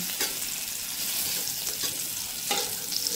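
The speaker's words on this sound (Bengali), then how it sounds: "আমার কুমড়ো ভাজা হয়ে গেছে।" Pumpkin pieces with the skin left on fry in oil in a pan, giving a steady, dense sizzle with faint stirring scrapes and occasional small pops, close up and without speech.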